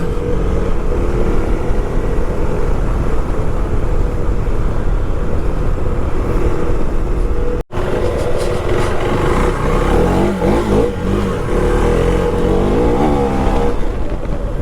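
A 390cc adventure motorcycle accelerates hard with a loud, continuous engine roar that rises through the revs, cuts out briefly mid-run during a gear change, then surges again at close range.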